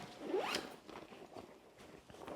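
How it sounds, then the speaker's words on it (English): A backpack zipper on a Mystery Ranch 2 Day Assault Pack is pulled open in one quick rising rip, followed by faint handling rustle up close. "there is a zipper that gets you directly to your laptop. Pull that up."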